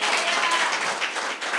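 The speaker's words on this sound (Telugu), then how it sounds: "గట్టిగా చప్పట్లు కొట్టండి ఆయనకి." A church audience claps together, a close, dense burst of hand claps holding steady for a moment before thinning slightly at the end.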